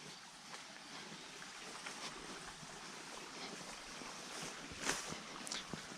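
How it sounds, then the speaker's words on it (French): Water flowing in a stream on overgrown countryside land, a steady broadband rushing and gurgling heard at moderate distance, faint and continuous with a few small knocks. "là on entend le cours d'eau."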